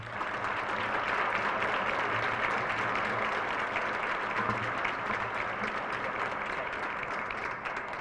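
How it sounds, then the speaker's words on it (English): An audience at a school board meeting claps for a student award winner, giving a sustained, even round of applause that carries on without a break at a moderate distance, with no voices standing out. "I do this so you get two rounds of applause"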